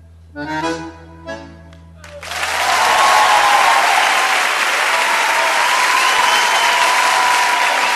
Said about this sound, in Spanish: Ese aplauso para Vicentico.